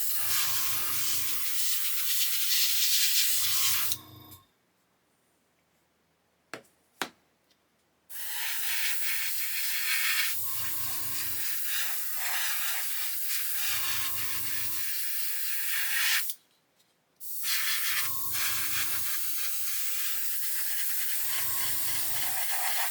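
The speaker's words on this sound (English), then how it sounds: "I've upped the pressure on the airbrush to about 20 psi just to sort of atomize the paint a bit better, get it on as a mist" An airbrush set to about 20 psi mists paint onto a 1/32 scale Fokker E.IV model aircraft. It gives a soft, steady, close hiss in long passes, broken by a couple of quiet gaps with faint clicks.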